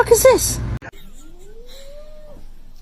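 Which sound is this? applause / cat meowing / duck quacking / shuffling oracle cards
cat meowing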